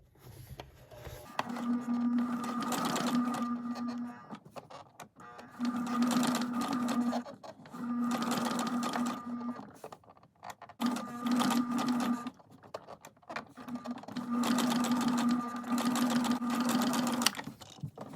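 A Kenmore 385 series sewing machine stitches a manual blind hem in several motor bursts of a few seconds each, a steady whirring hum stopping and starting between short pauses.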